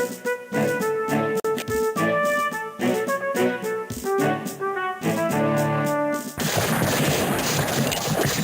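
Musket and cannon fire in the Civil War Generals 2 strategy game, dense rapid volleys crackling loudly over a tonal music bed, ending in a sustained noisy burst of gunfire.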